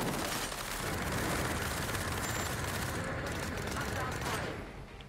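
Sustained gunfire and explosions from the video game Cepheus Protocol, a dense continuous roar of shots and blasts at steady loudness that eases slightly near the end.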